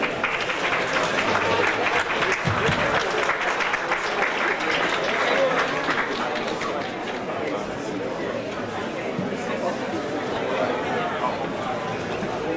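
Applause at an event, dense sustained clapping from a crowd mixed with chatter and voices, steady and loud throughout.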